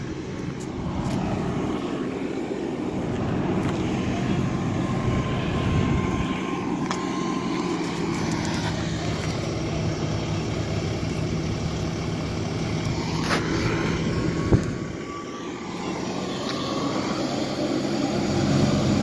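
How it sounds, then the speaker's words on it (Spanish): A helicopter drones steadily overhead above a large fire in Portland, a continuous rotor and engine rumble with faint background street noise throughout. "el helicóptero"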